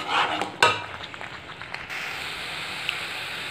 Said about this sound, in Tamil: ஸோ இந்த மாதிரி கிண்டிகிட்டே இருக்கணும்.